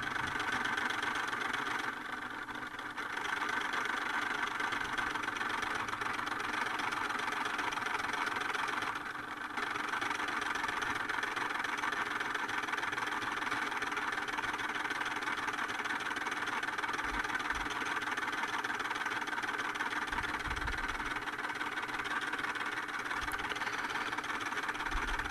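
A small electric motor hums steadily and continuously as it spins the mechanism of a homemade mechanical television set.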